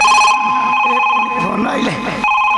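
A telephone rings with a loud electronic ringtone tone, steady at the start and end, while people talk over it in the middle.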